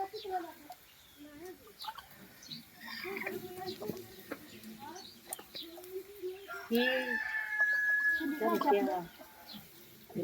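Chickens cluck and squawk at close range over a murmur of people talking, with a louder burst of fowl calls toward the end.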